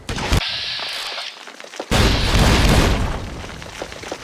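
Bombardment explosions in modded Fallout New Vegas on PC: a sharp blast, then a second heavy boom with a long rumbling tail that fades under scattered crackles.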